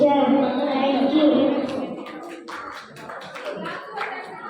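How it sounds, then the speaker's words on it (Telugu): Scattered hand claps at a Christian church gathering, loose and uneven, rising beneath a voice that sings or speaks over the first part of the moment. "చప్పట్లు అమ్మా, చప్పట్లు."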